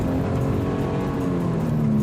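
A 2017 Toyota 86 sports car drives through puddles and wet leaves, a steady interior engine drone with a constant low tyre and road hiss.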